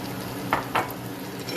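Chopped broccoli with stems being stirred into mac and cheese in a pot, two short scraping stirs over a steady background hiss.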